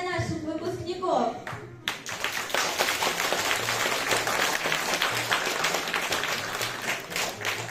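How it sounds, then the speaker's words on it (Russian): A hall audience claps for graduates at a school graduation evening, a brief announcer's voice at the start giving way to sustained, steady applause that fills the rest of the stretch. "не жалейте аплодисментов для наших выпускников"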